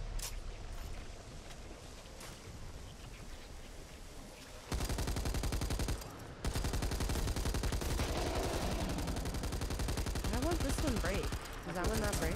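Bursts of rapid machine gun fire in a zombies shooter game, dense rattling volleys that start about a third of the way in, pause briefly, then continue loud and sustained, with gameplay noise earlier.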